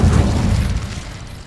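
An Incendio fire spell cast in Hogwarts Legacy lands as a loud, deep, close-up boom that rolls off into a fading, crackling rumble over about a second.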